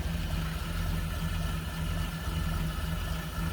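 A 1934 Chevrolet Master 5-window coupe engine idles in a steady, smooth, low drone with an even hum, heard up close and alone without talk.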